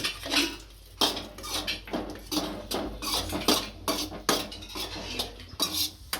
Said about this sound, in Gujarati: આની અંદર કિસમિસ નાખી દઈશું એને ઘીમાં શેકી લઈશું